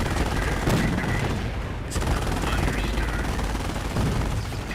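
Gunfire in the World War II strategy game Company of Heroes, dense bursts of rifle and machine-gun shots with booming impacts, loud and continuous, with voices talking under the battle.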